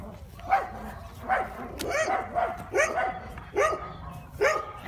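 A dog barks repeatedly on an outing, sharp close yaps in a quick irregular series of about six, with a low murmur of people talking beneath.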